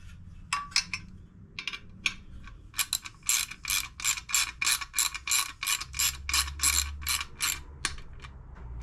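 A ratchet wrench turns on the air cleaner of a 2019 Harley-Davidson Softail Slim, rapid close clicking in bursts that settle into a steady run of rhythmic ratcheting strokes.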